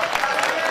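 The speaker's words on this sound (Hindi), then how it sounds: "ताली बजाओ इन दोनों के लिए आज जोरदार जरा।" An audience at a Hindi comedy poetry gathering in Ujjain claps, a short burst of dense, evenly sustained applause from many hands filling the brief moment.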